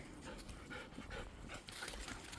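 A dog pants rapidly and rhythmically, close by and quiet, a steady run of short breaths with no other sounds.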